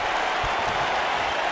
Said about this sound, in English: Wow, the crowd's on the edge of their seats.